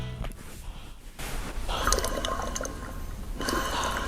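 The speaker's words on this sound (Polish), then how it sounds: "A to właśnie płyn w jednostce oporowej." Fluid sloshing and swishing inside the resistance unit of an Eyen Fluid Sport bike trainer, a soft liquid churning that grows steadier after the first second, with faint splashy bursts near the end.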